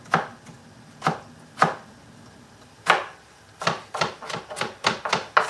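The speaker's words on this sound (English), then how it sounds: "So I'm going to slice our onions as thinly as possible" A kitchen knife thinly slicing onions on a board, sharp isolated chops at first, then quicker rhythmic cuts, close and crisp.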